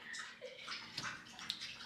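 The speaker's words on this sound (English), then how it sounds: "we got a new water thing for the cats and dogs. What it, fountain, water fountain, jug, water fountain." A pet water fountain for cats and dogs runs indoors, a soft continuous trickle of flowing water with small splashes, fairly faint.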